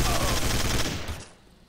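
A dense burst of gunfire in Garry's Mod Trouble in Terrorist Town, loud and continuous for about a second before trailing off into quieter noise.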